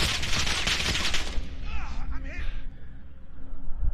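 Rapid bursts of automatic gunfire from the video game Warzone ring out loudly, then fade into softer game sounds while a player talks over them.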